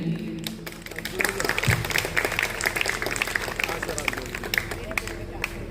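An audience at a school event in Tirur applauds to welcome a minister, a dense, close burst of clapping that runs steadily throughout with voices mixed in.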